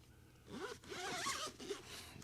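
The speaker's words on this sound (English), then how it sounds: "Smooth zipper. Little Baseus branding there on the zipper handle." The zipper on a Baseus Inspire XH1 headphone case is pulled smoothly along its track, producing a close, crisp rasping zip that lasts a couple of seconds.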